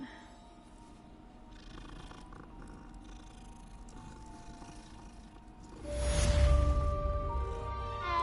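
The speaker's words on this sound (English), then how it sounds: "Pet the cat." A cat being petted in the video game Hogwarts Legacy purrs with a low, steady rumble that swells louder toward the end, over a quiet musical background.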